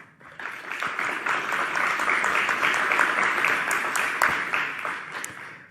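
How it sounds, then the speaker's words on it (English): An audience at a keynote bursts into applause. The clapping swells quickly into a dense, steady roar that holds for several seconds and then fades at the end. "So I think that in itself deserves a round of applause"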